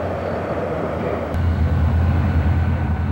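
D&H freight train rumbling past in a steady low roar, swelling louder about halfway through as the cars draw closer, with no voices.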